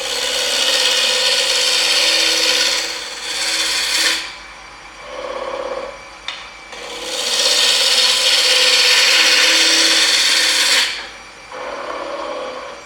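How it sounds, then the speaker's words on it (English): A turning tool rubbing against a wood spindle spinning on a lathe, giving a loud, steady rasping scrape that holds for several seconds, drops off briefly, then resumes, close and continuous, with no voices. "you can tell if it's round without turning the lathe off just by laying your tool on the work like that"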